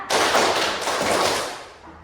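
Ninth-grade pupils clap together in a classroom on a teacher's counted cue, a dense wash of hand clapping that swells and slowly fades, moderately quiet.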